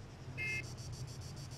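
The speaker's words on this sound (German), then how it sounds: "Ey, Alter, hör doch jetzt mal auf zu hupen." A car horn honks once in the military sandbox game Arma 3, a short buzzy tone over a low engine drone, followed by faint rhythmic pulsing.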